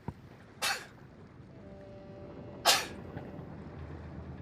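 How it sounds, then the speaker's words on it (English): Two sharp bursts of breathy noise, like sneezes, cut through a quiet room, the second one louder and a couple of seconds after the first. "I gotta sneeze, excuse me."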